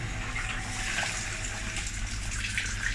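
Water escaping from a leaking water heater hose, a steady broadband hiss and trickle that runs loud and unbroken the whole time with no voices.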